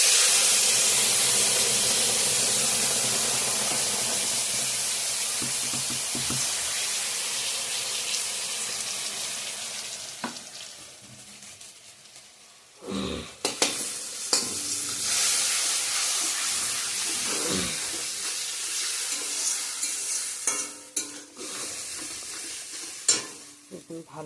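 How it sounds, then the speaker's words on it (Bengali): Spices, ginger and tomato paste sauté in a pan with a steady hiss and sizzle that fades gradually, followed by repeated scraping stirs of a spoon and bursts of crackling, close and moderately quiet. "ভালো করে কষিয়ে নেব।"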